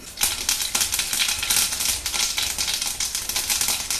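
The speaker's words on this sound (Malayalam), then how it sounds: "കടുക് പൊട്ടിക്കഴിയുമ്പോൾ" Mustard seeds crackle and pop in hot coconut oil in a kadai while okra curry is being made, a dense, steady spatter of rapid sharp pops filling the whole stretch without a break.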